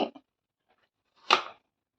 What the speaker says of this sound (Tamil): இப்போ வெண்ணிலா ஐஸ்கிரீமு நல்லா கட் பண்ணி எடுத்துக்கிட்டோம்